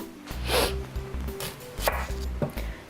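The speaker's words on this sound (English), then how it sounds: "start peeling and chopping some onions" A knife chops onions rhythmically on a cutting board, a quick series of close, firm thuds with some scraping in between, no talking.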